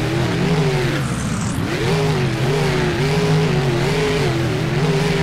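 Race cars roar toward the finish line in a racing video game, engines loud and close with a steady, wavering rev and a brief high squeal early on.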